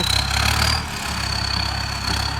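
Ford 6610 turbocharged tractor engine running at idle close by, a continuous low throb that dips briefly near the middle, with a thin high turbo whistle holding steady above it.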